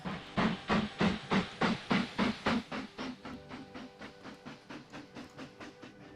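A steam locomotive in the railroad tycoon strategy game Mashinky chuffs along in a steady rhythm of strong, regular puffs that gradually grow fainter as it moves away, with a faint hiss underneath.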